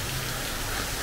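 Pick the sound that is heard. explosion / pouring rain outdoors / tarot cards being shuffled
pouring rain outdoors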